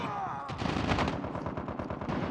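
An automatic weapon in the mobile shooter Call of Duty: Mobile fires a close, loud, sustained burst of rapid, evenly spaced shots lasting about two seconds.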